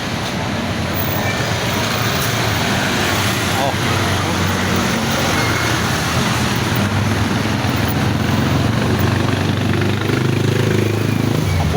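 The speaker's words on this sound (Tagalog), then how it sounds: "sa highway na tayo. Daming mga sakyan" Dense, continuous roar of highway traffic with many cars and motorcycles passing, a steady loud wash of engine and tire noise throughout with no clear gaps.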